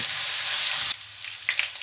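A loud hiss of garlic and ginger paste hitting hot oil, sizzling steadily before dropping to a quieter crackle with a few spatters and stirring scrapes.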